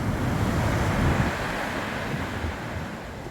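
Stormy sea waves break on the beach at Lyme Regis in Dorset, a loud rushing surf roar mixed with heavy wind buffeting the microphone, easing a little toward the end.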